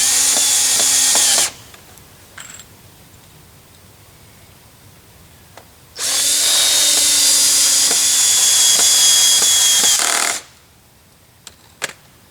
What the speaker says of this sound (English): So now all we have to do is install the pocket screws